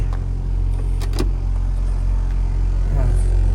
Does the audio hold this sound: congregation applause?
no